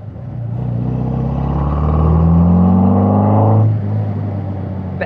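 A Healey by Caton sports car engine pulls steadily while driving slowly behind traffic, its deep, tractable drone swelling in pitch, then easing off with a drop in revs near the end.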